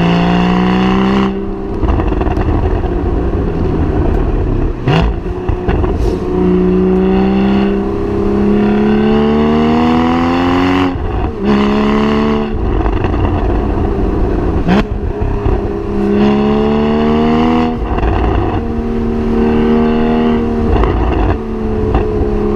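Porsche Boxster 981 Spyder engine revving hard on the road, loud and close, with repeated rising sweeps through the gears, sharp shift breaks, and no talking.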